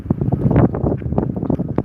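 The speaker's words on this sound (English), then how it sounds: "And here comes a wind gust." A wind gust on a muddy walk in Leominster, buffeting the microphone with a blustery rumbling roar that swells and fades over a couple of seconds.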